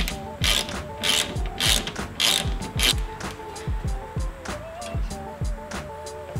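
A ratchet wrench clicks steadily as it backs out a 10 mm bolt from the prop rod under the hood of a 2015-2019 Ford Mustang, close and loud, with repeated bursts of rapid pawl clicking.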